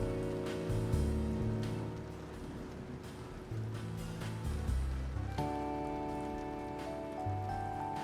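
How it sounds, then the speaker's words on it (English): Rain ambience plays softly, a continuous hiss of drops pattering on a surface, faint and even, with a low sustained musical drone underneath. "We got a rain ambiance."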